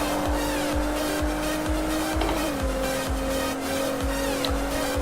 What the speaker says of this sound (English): I can get back on the throttle and the car will pull itself around the corner